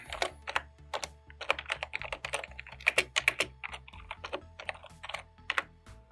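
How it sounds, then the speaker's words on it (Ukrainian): An email signature typed on a computer keyboard, with close, rapid clicking keystrokes in uneven bursts and short pauses between words, steady throughout and free of talking. "Вводимо текст підпису, наприклад, такий."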